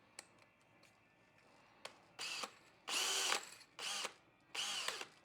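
A power drill with a 3/8 bit whirs in several short bursts, each a few tenths of a second to half a second long, with small clicks and taps between them, close and clear.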